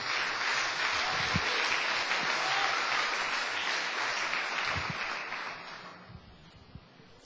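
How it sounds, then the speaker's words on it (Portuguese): A church congregation applauds, a steady wash of many hands clapping loudly for several seconds before tapering off. "Outra salva de palmas para o Senhor."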